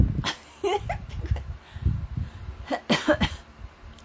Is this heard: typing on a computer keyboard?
no